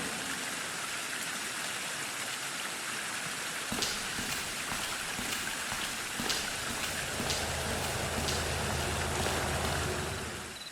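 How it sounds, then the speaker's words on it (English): A viscous green waterfall in the video game Dead Synchronicity gives off a continuous splashing, rain-like rush, steady and dense throughout, with a few sharper drips and splats. "there's something hypnotic about that viscous green waterfall"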